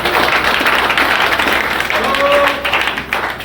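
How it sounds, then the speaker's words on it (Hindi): A seminar audience bursts into steady applause, dense and loud throughout, with a few voices faintly underneath. "हम चाहेंगे हमारे इन डायमंड लोगों के लिए ताली एक बार डायमंड वाली बजाएं।"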